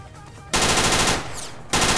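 Gunfire in Garry's Mod Prop Hunt: loud sustained bursts of shots that fill the clip after a quieter start, with a brief easing in the middle before the firing picks up again.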